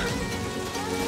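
Heavy rain falls steadily as a dense, even hiss close by, with no talk over it.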